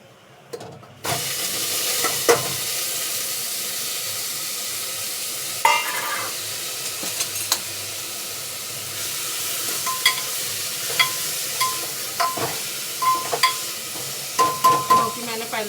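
Cumin seeds crackle and sizzle in hot oil in a home kitchen, a steady frying hiss broken by sharp pops and crackles that pick up toward the end, with some stirring and no talk.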